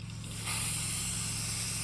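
Brake cleaner hisses from an aerosol can onto the dirty transmission magnet of a 2000-2007 Ford Focus 2.0L, a loud continuous spray that starts abruptly and holds steady to the end.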